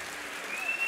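An audience at a live music show applauds the guitarist, a steady wash of clapping that swells a little toward the end, with no voices over it.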